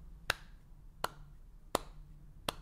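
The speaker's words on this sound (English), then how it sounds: "That's me giving him the slow clap." A single person delivers a slow, sarcastic clap, four sharp, crisp claps spaced evenly about three quarters of a second apart against a quiet room background.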